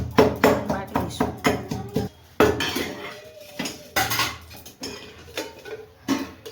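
Cumin is pounded in a stone mortar (khandni) for tempered buttermilk. Sharp, close knocks come in quick uneven bursts with brief pauses and faint voices in between.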